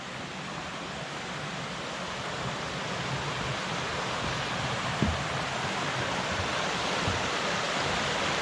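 Phantom Creek on the Maple Valley Trail runs beneath a bridge, a steady broadband rush of flowing water filling the whole clip at even volume, with one faint knock partway through and no voices.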